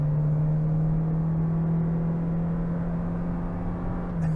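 A Toyota Corolla Cross hybrid engine accelerating hard, a steady droning whir with a strong low hum and road rumble, heard from inside the cabin.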